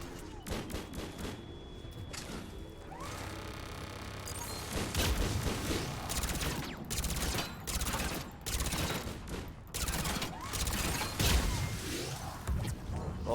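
Heavy gunfire from turrets in the Mass Effect 3 video game, with dense, rapid bursts of shots and crashing impacts that keep going loud and nearly nonstop from near range.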